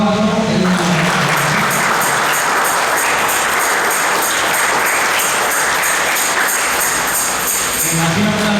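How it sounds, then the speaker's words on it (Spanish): Steady applause fills the church during a religious quinceañera Mass, a dense, even wash of clapping held for several seconds with music tones in the background at the start and end. "Damos un aplauso"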